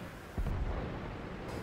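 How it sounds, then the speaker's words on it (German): A tank cannon in World of Tanks, fired from the LP-2, lets off one heavy boom that gives way to a steady low engine rumble with no talking. "wir werden jetzt probieren, noch ein paar Schüsse zu machen, werden wir leider aber nichts treffen"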